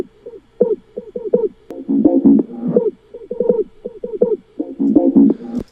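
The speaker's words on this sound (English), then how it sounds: "I've filtered my drop synths with the auto filter." Dubstep drop synths, darkened by an auto filter, play choppy rhythmic bursts of muffled, wobbling low-mid tones with the highs cut away, fairly loud and with no voice over them.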